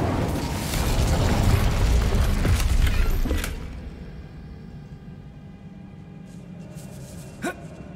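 An Incendio fire spell bursts out in Hogwarts Legacy with a loud, roaring whoosh that lasts about three seconds. It then drops to a quieter ambient hum, and a short sharp crack comes near the end.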